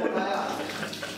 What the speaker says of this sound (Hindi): आज मुंह धो रहे हैं